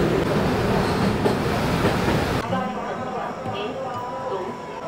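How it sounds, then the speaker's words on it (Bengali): Train pulling into Malda railway station in West Bengal, a loud rumble of wheels and carriage noise that drops to a quieter hum of station ambience midway as the train slows and stops. "এখন এসে পৌঁছালাম, এই হচ্ছে মালদা স্টেশন।"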